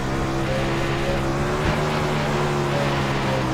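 Race car in iRacing dirt racing, engine accelerating hard with a loud, steady droning note, a brief shift blip midway, continuous and alone.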